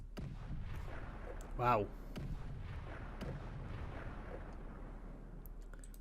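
Artillery fire in the World War II strategy game Cauldrons of War: Stalingrad, heard as a few dull, muffled booms over a steady low rumble, one louder swelling burst near the middle, with a man's brief exclamation.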